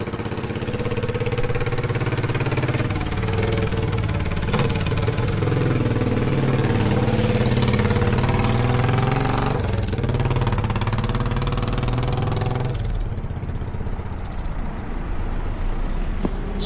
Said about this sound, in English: especially on a vintage classic motorbike like this, the Royal Enfield Bullet 500.